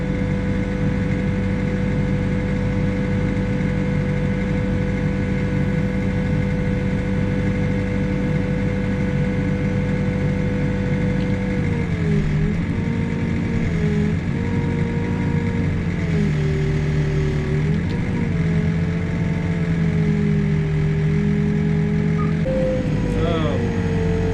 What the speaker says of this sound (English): Digging out some more of these 12-inch wide footings.